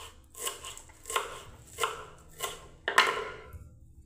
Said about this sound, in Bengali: বন্ধুরা আমি ধনে পাতাটাকে কেটে নিচ্ছি।